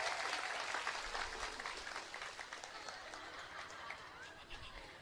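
Fairly faint, distant applause from an audience at an Islamic sermon gathering, clapping for Banser guards in a continuous, dense patter that gradually softens toward the end.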